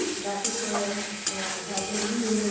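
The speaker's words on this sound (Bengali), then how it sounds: "এটা নাড়ছি। দেখো নেড়ে নিই।" Paneer chilli cooking in a pan with tomato sauce gives a constant loud sizzle, with a few brief scrapes of a spatula stirring it up close.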